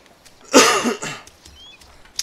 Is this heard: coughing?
yes